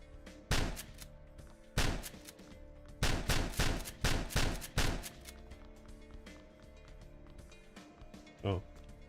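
Shotgun blasts in an indie video game, with loud booming shots fired in quick bursts close up, some in rapid succession, followed by a short quieter electronic sound near the end.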